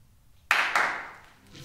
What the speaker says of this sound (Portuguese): duas palmas é para retomar o movimento